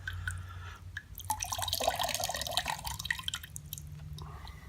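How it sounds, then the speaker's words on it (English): Water trickles and splashes as it drains out of a LifeStraw personal water filter, a steady close-up flow with a few drips at the start and end. "let the water drain out and blow out the excess water from the filter"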